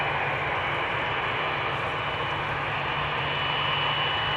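An airliner departs the Polderbaan runway at Amsterdam Schiphol Airport, producing a steady distant jet rumble and roar that holds evenly throughout with no talking.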